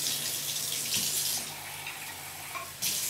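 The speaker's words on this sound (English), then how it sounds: "now I'm going to add some cold water" Cold water running steadily from a tap while bread dough is being made, a close, even rush of water that eases slightly toward the end, with no talking.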